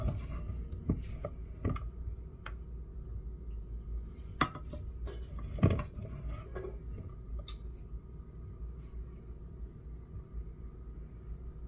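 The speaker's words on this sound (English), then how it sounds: "The rice, we're going to start with scooping our rice." Cooked rice being scooped into a bowl for a soy-sauce-marinated egg yolk dish, heard as scattered clinks and scrapes of utensil against dishware, with a few sharper knocks over a low kitchen rumble.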